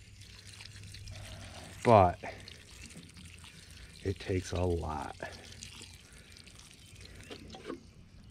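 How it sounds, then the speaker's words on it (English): Water poured onto peat moss potting mix while repotting a peace lily, a soft wet splashing and trickle running under a person's talking, mid-level and close. "So I'm just going to give it a little bit of water right now."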